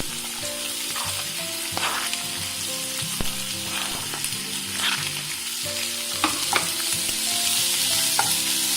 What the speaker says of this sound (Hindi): ये अदरक, चॉप्ड अदरक, चॉप्ड ग्रीन चिली सौटे कर लेंगे। चॉप्ड अनियन डाल रहे हैं।